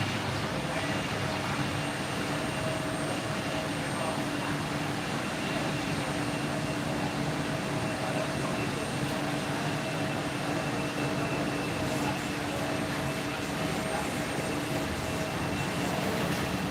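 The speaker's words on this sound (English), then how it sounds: "I forgot how loud planes are." Airplanes flying over Los Angeles, a loud, steady jet roar with a broad rumbling hum that holds throughout without fading.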